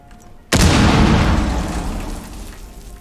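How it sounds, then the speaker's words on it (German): A loud explosion in the video game Rainbow Six bursts in suddenly after a brief quiet moment, then a deep rumbling blast slowly fades away. "da vorne irgendwo hat irgendwas explodiert"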